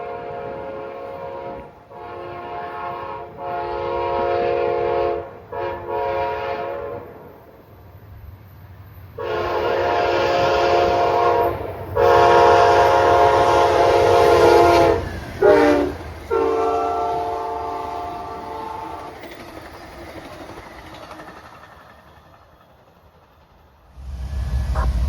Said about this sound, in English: Amtrak 80 cruises northbound through Emporia with the classic Genesis leading the way.